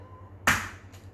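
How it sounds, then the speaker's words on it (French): Three eggs cracked into a saucepan while making a lemon tart: one sharp, close crack with a quick shell snap, followed by a fainter second tap, over a low steady hum. "On va venir casser du coup les 3 œufs"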